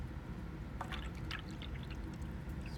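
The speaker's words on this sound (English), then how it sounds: "Just pouring water out." Water is tipped out of a red plastic cup in a lab demonstration, a brief splashing pour followed by a few scattered drips close by, over a steady low room hum.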